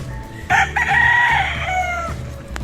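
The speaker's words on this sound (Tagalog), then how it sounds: "Chicken, manok." A rooster crows once up close, loud and drawn out, with a few low clucks around it outdoors.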